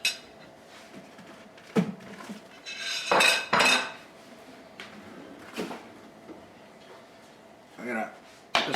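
Metal clanks and clinks of a pot lid being handled and set over a pot of beans, sauerkraut and Polish sausage, several sharp knocks with quieter scrapes between, a voice talking faintly in the background.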